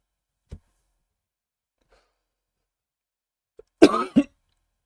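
A single harsh cough bursts out after near silence, preceded by a few faint clicks and followed by a short breathy catch.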